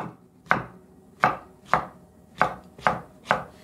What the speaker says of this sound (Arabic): خليني افرم الفليفله لقطع كبيره